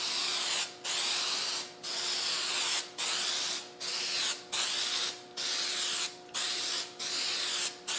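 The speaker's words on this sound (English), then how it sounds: "I'm going to use what's called a product called Guide Coat. And you spray it on." Guide coat is sprayed onto body filler on a car in short, evenly spaced hissing bursts, around nine of them with brief pauses between, close and steady, with no voices.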